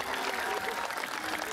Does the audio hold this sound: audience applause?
yes